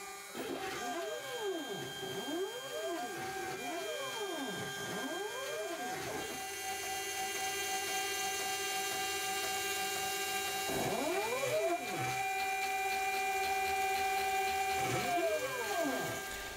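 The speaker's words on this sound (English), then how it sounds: "When I was happy with the design, it was time to CNC cut all of the parts." A CNC machine cuts parts for an air-powered bike, its stepper motors whining in repeated rising and falling sweeps over a faint steady hum, with a long held tone partway through; quiet and without voices.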